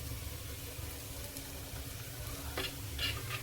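Golden-brown fried onions with a half teaspoon of baking soda being stirred in a pan, a faint, steady low sizzle over a rumbling background, with a few brief scraping strokes near the end.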